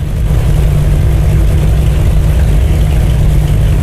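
Loud, steady engine drone of an Avia BH-5 airplane during takeoff, a continuous low rumble heard close up from the cockpit with no talking.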